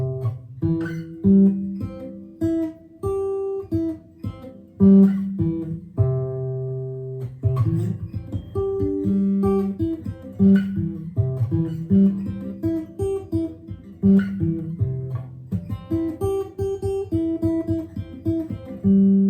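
A Martin SC13e acoustic guitar playing arpeggiated chords, notes picked one after another in a repeating flowing pattern, close and clear with no voices.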